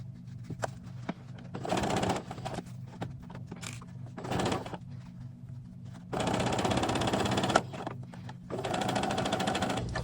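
Sewing machine stitching quarter-inch seams on an 18-inch doll T-shirt, running in several bursts of steady rapid whirring separated by short pauses, close and fairly loud with no talk.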